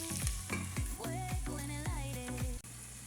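Dried fish, tomato and vegetables sizzling steadily in a pan for a coconut-milk dish, with a utensil repeatedly scraping and stirring through them, close and continuous.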